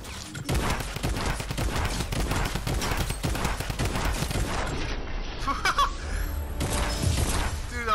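Rapid gunfire from a shotgun in a video game, dense bursts of shots in quick succession with players talking and laughing over the action.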